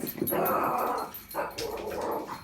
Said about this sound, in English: Let's stop the dog barking, shall we?